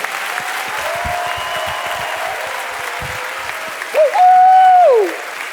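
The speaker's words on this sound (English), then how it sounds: "I would be so tickled if everybody would join me in a massive round of applause for these inductees today." Massive applause for Hall of Fame inductees at a university induction ceremony, a broad wash of clapping from a large audience, with a shrill whistle rising over the crowd near the end.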